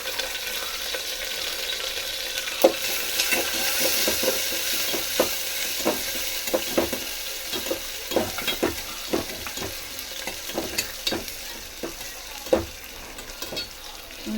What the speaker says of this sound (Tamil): கடுகு பொறிஞ்ச உடனே காஞ்ச மிளகா இஞ்சி பூண்டு தட்டி வச்சதெல்லாம் போடுறோம்